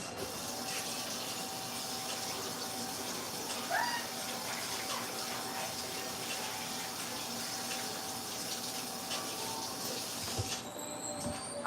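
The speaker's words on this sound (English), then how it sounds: "let me rinse this spoon off" Tap water runs steadily into a kitchen sink as a spoon is rinsed, a continuous close hiss of flowing water with a few faint clinks, cut off near the end.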